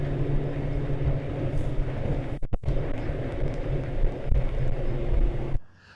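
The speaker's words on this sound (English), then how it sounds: "I'll go straight into full throttle and bring it up on plane" A Mako Pro Skiff 17 boat runs at full throttle on open water, with a continuous loud outboard roar and wind rush, a brief dropout partway through, and the sound cutting off at the end.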